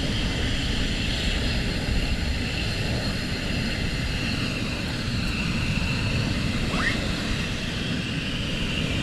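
A military jet at RAF Lakenheath gets ready for a morning departure during surge operations: a steady, broad engine roar with a rumbling low end, continuous and even, heard from a distance with no talking.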